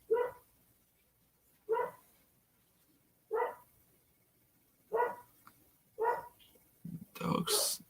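A dog barks in five spaced single woofs at moderate distance, followed by a louder, rougher burst of barking or grunting at the end, with no talk over it.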